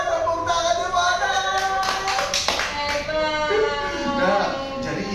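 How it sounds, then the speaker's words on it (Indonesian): An audience clapping along during a lively brain-gym (senam otak) session, a steady patter of hand claps mixed with voices and talk over the top throughout. "Tepuk tangannya mana?"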